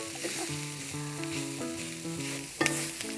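A roux for seafood gumbo sizzles steadily in a pot on a Louisiana Creole stove as it is stirred, with a brief louder scrape or clatter near the end.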